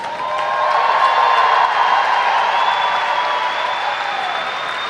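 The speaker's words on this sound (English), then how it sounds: "And a round of applause for all of our national qualifiers." Steady applause from a large audience at a national swimming championship finals session, sustained and even across the whole stretch in a reverberant pool hall.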